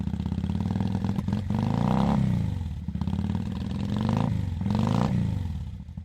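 A motorcycle engine, not a Harley, pulls up nearby, its mid-pitched engine rumbling steadily with a couple of rising revs and clattering throughout, loud and continuous with no talk over it.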